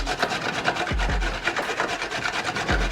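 Carrots for a spiced carrot and lentil soup are rubbed quickly against a hand grater, a close, rhythmic scraping rasp with occasional knocks as the grater shifts.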